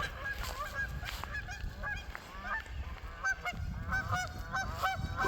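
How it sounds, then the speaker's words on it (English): Geese at a pond in West Virginia honk repeatedly in overlapping calls, several birds at moderate distance over steady outdoor background noise. "there's some geese up there"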